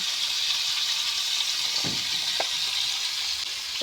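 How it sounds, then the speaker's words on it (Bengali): Spices with turmeric and chilli frying in a pan for amra chutney, a dense continuous hiss of sizzling with a couple of brief scrapes from stirring. "এবার আমি ভালো করে এটা এইভাবে নাড়তে থাকবো, পোড়াতে না লেগে যায়"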